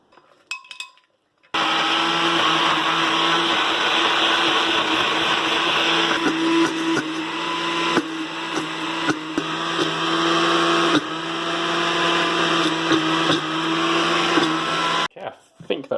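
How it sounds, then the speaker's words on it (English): A blender whirs loudly and steadily for about thirteen seconds, grinding Thai panang curry paste of soaked chilies and water, its motor tone shifting slightly as the paste churns, then cutting off abruptly. "that should get the blender going"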